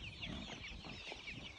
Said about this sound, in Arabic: هاي الافراخ